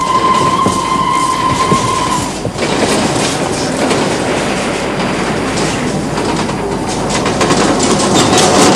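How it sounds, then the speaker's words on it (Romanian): A 1960s train pulls into the railway station at Medgidia with a steady loud rumble and rhythmic clatter of wheels on track, continuous throughout and close by, with a brief tonal whistle-like note at the start. "Hai că vine trenul."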